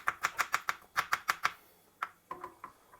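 A knife chops a garlic clove into small pieces on a board, first a quick, even run of about nine crisp taps, then a pause and a few looser cuts, all close and clear.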